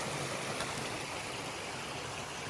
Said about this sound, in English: You can never pass up a great waterfall